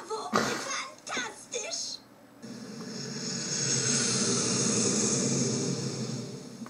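An airplane in the video game Fred und das Flaschenfahrrad flies away, rising into a steady, broad rushing drone that holds loud to the end after a brief stretch of talk and thumps.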